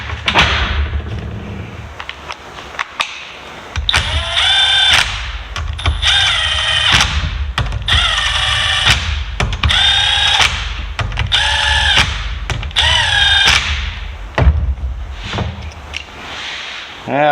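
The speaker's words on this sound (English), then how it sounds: "these head bolts get torqued to 18 to 20" Cylinder head bolts on a Polaris Ultra XCR 600 snowmobile being tightened with a torque wrench, heard as a series of short ratcheting bursts with brief pauses between them. Close, loud and steady, with no voices.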